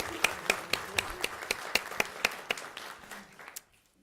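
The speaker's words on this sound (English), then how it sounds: "let's give her a round of applause anyway." A small audience at a school board meeting claps in a sparse, evenly spaced rhythm of roughly a dozen distinct claps, fairly faint, dying away into near silence at the end.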